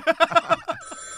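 A telephone rings in a quick burst of about five trilling pulses, loud and close, followed by a sustained tone.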